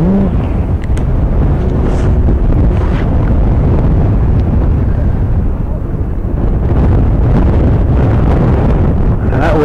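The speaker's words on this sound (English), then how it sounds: "And that wind is really whipping down." Strong, gusty wind roars across the microphone at an outdoor high school baseball game, a loud continuous buffeting rumble that swells and eases throughout, with faint crowd sounds beneath.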